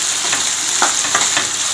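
Salted pieces of poosanikai (ash gourd) frying in a pan for a Tamil poriyal: a constant bright hiss of hot oil with a few soft scraping stirs, close and continuous, with no talk.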